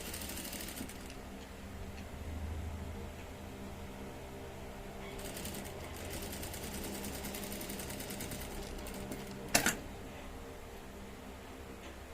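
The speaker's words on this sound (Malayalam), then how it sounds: "ഇതിന്റെ എഡ്ജിൽ കൂടി തന്നെ സ്റ്റിച്ച് ചെയ്യുക" A sewing machine stitches along the edge of fabric for a child's dress, giving a close, steady mechanical whirr in stretches, with a sharp clunk near the end.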